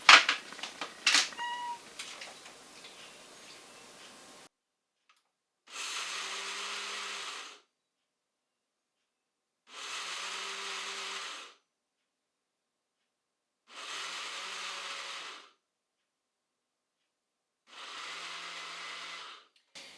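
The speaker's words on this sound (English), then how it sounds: "And then I'll go ahead and start blending that up." A blender on puree whirs in four short bursts of about two seconds each while blending quail food, with silent pauses between, after some clattering at the start.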